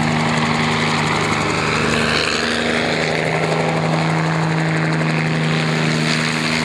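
A Bell 47D helicopter flies during an airshow demo, its rotor and piston engine producing a loud, continuous droning whir with steady rhythmic blade chop, close and unbroken.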